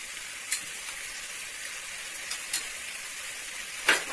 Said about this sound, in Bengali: এইবার মাংসটাকে নেড়ে চেড়ে এর মধ্যে নুন দেওয়া হচ্ছে।